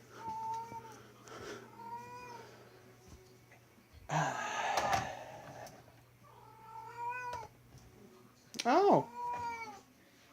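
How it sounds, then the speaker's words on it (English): A cat in heat meows repeatedly in long, wavering, rising and falling cries, several calls spaced across the clip, with a person briefly exclaiming once. "Because it's a cat in heat."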